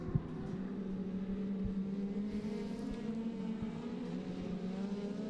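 Rallycross cars lap Mondello Park in the British Rallycross Championship, their engines a steady, distant droning roar that holds level throughout.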